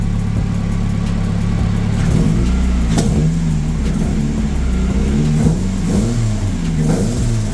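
Car engine revved repeatedly after an ignition timing adjustment, loud mid-pitched blips rising and falling over a steady idle, close up with no talking.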